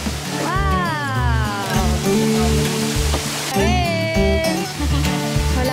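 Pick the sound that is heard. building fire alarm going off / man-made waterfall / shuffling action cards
man-made waterfall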